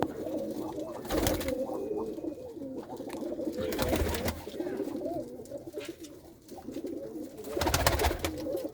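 Kikkar Maan pigeons coo in repeated low, throaty calls close by, with several bursts of wing flutter or scuffling between the cooing phrases.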